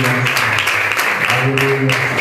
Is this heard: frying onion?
no